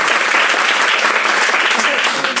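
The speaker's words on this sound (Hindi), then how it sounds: "ताली बजाइए जोरदार" Loud, dense clapping from a crowd of students and guests at a coaching centre celebration in Chanauraganj. The applause runs steadily from start to finish and sounds close.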